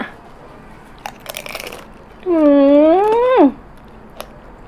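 Crispy fried wonton bitten into with a few quick, close crunches, followed by a sustained voiced hum of approval from the eater.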